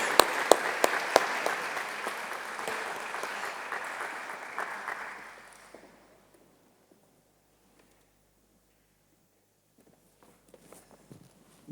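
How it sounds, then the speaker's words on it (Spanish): Audience applause at a medical congress on chronic pain treatment, a full room clapping steadily for about five seconds, then fading out to near silence with a few scattered sounds. "al profesor Antonio García, al que le recibimos con un fuerte aplauso"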